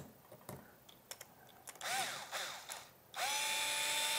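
Power drill removing bolts during a Z and X axis installation on a Bear upgrade: a few sharp clicks, then the drill whirs up in short, close bursts that rise in pitch, ending in a sustained whine.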